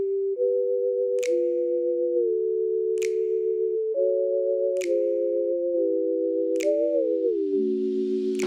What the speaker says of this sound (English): I created 2 sound effects for Ghost, using notes that harmonized in a minor key to create a haunting tone.